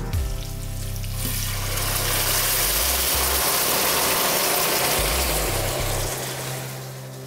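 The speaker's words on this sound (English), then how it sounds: "Next ingredient going in, the boiling water." Boiling water pours and hisses into a hot pan of spices and turmeric, a loud bubbling sizzle over a low rumbling hum, steady for several seconds before easing off.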